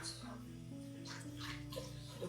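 Hot water runs steadily from a kitchen tap into a container, a continuous soft gushing with a low hum beneath it.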